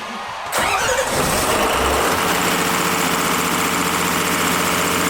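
A fish tender boat's engine cranks and catches, then settles into a loud, steady running drone with a low, even throb.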